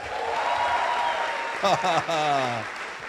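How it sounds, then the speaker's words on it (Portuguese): A conference crowd at an event keeps up a moderate wash of applause, with a voice cutting in over the clapping near the end. "De novo, uma salva de palmas"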